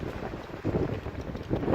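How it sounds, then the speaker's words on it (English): Strong wind buffets the microphone at a fishing spot beside a lock during an evening match, a steady loud rumbling roar with gusty surges and no voices. "It's ever so windy."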